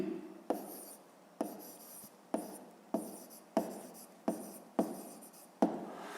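Handwriting with a pen on paper in a math exercise, a series of about eight short scratchy strokes, each starting with a sharp onset and trailing off. They are steady, close and fairly quiet, with no talking.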